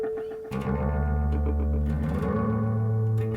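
An ambient jam on an iPad in GarageBand runs through a '60s echo effect, with sustained distorted synth tones swelling after a brief pause and smearing into repeating, reverberant tails.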